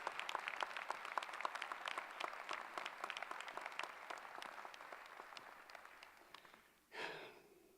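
Applause from a convocation audience fills the room, a steady dense patter of clapping that gradually thins and fades, ending with a brief swell near the close.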